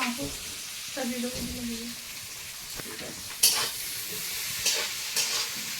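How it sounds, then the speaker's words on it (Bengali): A steady sizzle of onions frying in a pan, with a brief voice early on and a few sharp clinks of a utensil later. "পেঁয়াজটা একটু ভাজা ভাজা হয়ে গেছে"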